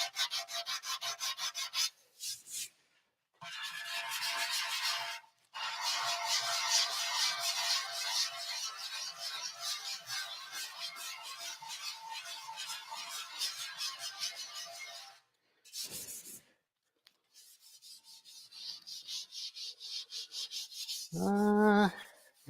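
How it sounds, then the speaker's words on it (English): Sanding by hand in a crisscross pattern with 180-grit sandpaper, long rough rasping strokes in a few sustained bursts with short pauses, close and fairly quiet, ending with a brief electronic chirp. "Crisscross is a great way to sand as well."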